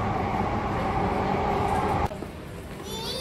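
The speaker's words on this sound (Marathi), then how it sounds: "या ॲक्वा मेट्रो लाईन 3." A Mumbai Aqua Metro Line 3 underground train runs with a steady, loud rumble and hum from inside the carriage, then drops suddenly to a quieter level near the end.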